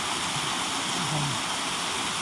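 Water pours steadily over an overflow weir above Chano waterfall in Nong Waeng, Nam Som, Udon Thani, a constant broadband rush with no voices.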